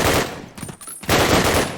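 Gunfire in Call of Duty during a competitive match: rapid, dense bursts of shots, loud and close, broken by a brief lull before another burst, with no talking.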